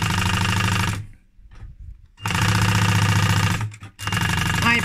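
Sewing machine stitching a normal seam joining two pieces of leather for a garment, a loud steady mechanical whir in two long bursts separated by a short pause, then a brief restart.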